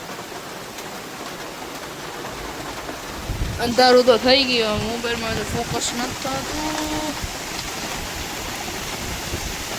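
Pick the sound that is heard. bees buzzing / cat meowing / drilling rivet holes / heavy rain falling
heavy rain falling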